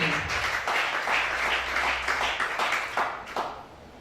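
A church congregation applauding during a service, a steady wash of many hands clapping that carries on for a few seconds before tailing off.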